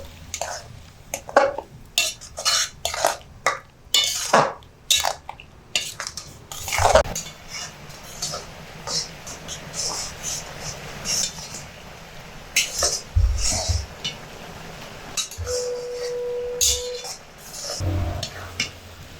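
Grated coconut and jaggery being stirred in a pan, with a spoon scraping and clinking against the metal in irregular bursts, close and fairly loud, and no talk.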